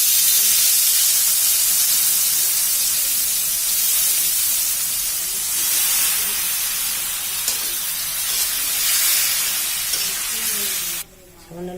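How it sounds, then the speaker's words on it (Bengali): Elephant foot yam stalks hitting hot oil in a pan, a loud continuous spray-like sizzle and hiss that holds steady for several seconds before cutting off abruptly near the end. "এখন ওলের ডাঁটাগুলো দিয়ে দেব।"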